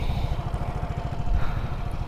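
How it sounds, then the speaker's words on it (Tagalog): A used motorcycle engine, somewhat dirty and hard to start, runs steadily during a sound check, its low, rapid pulsing exhaust note sitting close and loud with no talk over it. "So try natin i-sound check itong ating motor."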